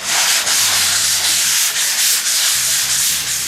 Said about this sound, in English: I'm just going to give it a light sand with a 220 grit sandpaper